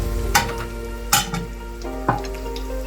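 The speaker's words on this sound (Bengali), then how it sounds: "দিয়ে এটাকে একটু ভেজে নেব" Whole spices (cardamom, cloves, cumin, cinnamon and a bay leaf) frying in hot oil, a steady close sizzle with a few sharp spatters and scraping stirs over a low hum.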